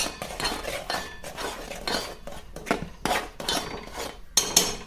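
Crushed peanuts being mixed into a junnu milk mixture in a pot, with repeated scraping and clinking strokes of a metal spoon against the vessel, close and fairly loud, no talk.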